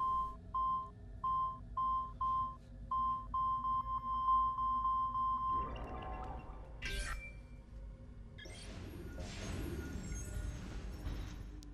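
In the Assassin's Creed game, a short electronic beep sounds over and over in a steady rhythm, then speeds up into a fast run before it stops. Game noise and a voice follow.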